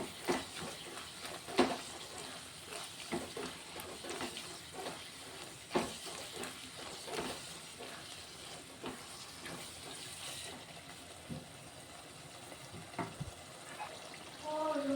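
Egg and ridge gourd curry with chili powder being stirred in a hot pan, with a soft steady sizzle and scattered scraping and clinking strokes of a spoon against the pan throughout.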